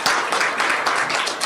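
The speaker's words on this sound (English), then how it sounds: "Give him a round of applause." Brief burst of audience applause for a company marketing manager at a regional corporation essay writing competition ceremony in Trinidad, dense steady clapping lasting just over a second.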